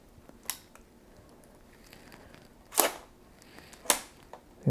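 A Wista 45SP large-format camera with a 6x9 sliding back, the back sliding across and tripping a shutter: a faint click near 0.5 s, then two crisp, close mechanical clacks around 2.8 s and 3.9 s over quiet room tone.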